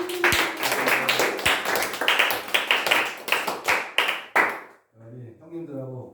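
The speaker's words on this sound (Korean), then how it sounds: "자, 환영의 박수." Welcoming applause at a Sunday church service, a congregation clapping in distinct uneven bursts for several seconds before stopping, followed by a voice speaking.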